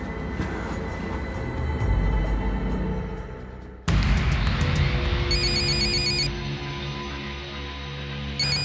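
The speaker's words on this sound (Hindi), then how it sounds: "किसका फ़ोन है?" A telephone rings with a repeating electronic ringtone pattern over background music and ambience, after an abrupt cut in the scene.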